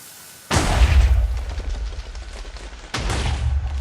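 TNT cannon built from slime blocks in Minecraft fires with two heavy booms, each a sudden loud burst followed by a rumbling roar, about two and a half seconds apart.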